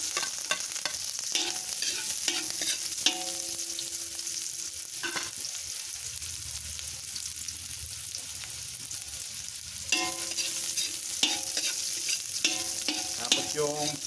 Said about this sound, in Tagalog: Lagyan na natin yung bawang